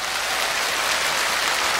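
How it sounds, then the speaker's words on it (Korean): A large studio audience at a televised national singing contest final claps in a loud, continuous, hiss-like roar that stays level throughout. "박수 보내주시고"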